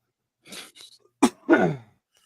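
A single close sneeze, with a sharp intake of breath before it and a brief breathy exhale after.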